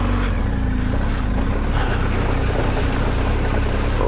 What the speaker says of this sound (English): here we come to the water crossing.